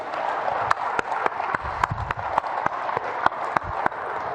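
Audience applause at a MUFON gathering in Colorado, a steady wash of clapping at moderate distance with occasional sharper individual claps standing out, continuing through the whole stretch without talk.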